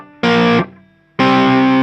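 A riff finger-picked on an overdriven electric guitar, two loud distorted chord stabs separated by a short gap where a faint note rings on.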